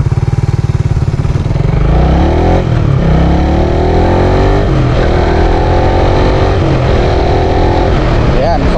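A Suzuki Raider Fi motorcycle engine revs during a rev-matched downshift, running loud and close with rising and falling pitch sweeps that repeat several times.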